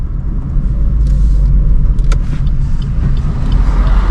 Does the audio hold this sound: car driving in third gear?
yes